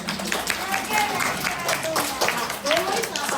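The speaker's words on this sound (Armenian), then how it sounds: "Բոլորից ծափահարում է, բոլորը ծափահարում է" Children and adults clap at a kindergarten Easter celebration in Gyumri, giving a steady patter of applause under continuous talking and children's voices.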